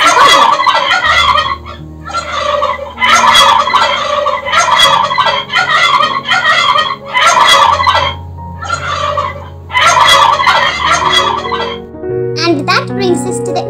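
Turkey gobbling in repeated loud bursts, several rapid rattling calls separated by short pauses, with a brief higher chirping sound near the end.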